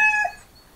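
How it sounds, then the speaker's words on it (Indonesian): A rooster crows once at dawn, a short bright call that fades quickly, heard close and alone. "Terdengar suara ayam berkokok."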